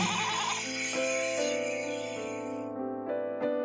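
A goat bleats in a cartoon story, a steady, tonal, wavering cry held for a few seconds and then breaking into shorter calls, clear and close over a bed of music.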